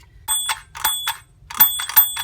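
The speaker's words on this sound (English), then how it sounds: "Ring the school bell" Toy school bell on an Arthur schoolhouse playset rings in bright metallic dings, two quick groups of strikes, close and loud with no talk.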